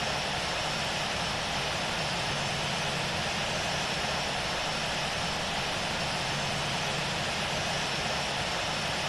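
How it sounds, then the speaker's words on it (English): Steady, loud roar of airliner jet engines at takeoff power on runway 24 left at Los Angeles in the Infinite Flight simulator, a continuous broadband rumble and hiss without pauses. "November Whiskey Alpha 123 Heavy is taking off runway 24 left, remaining in the pattern."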